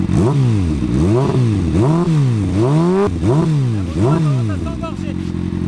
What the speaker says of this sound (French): la moto a vraiment tendance à s'engorger. Elle marche pas vraiment.